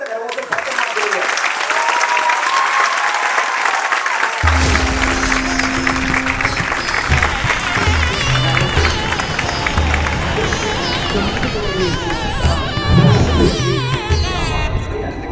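Loud, sustained applause from an audience at a Tamil stage event, continuous clapping filling the hall for the whole stretch, with cheering mixed in toward the end.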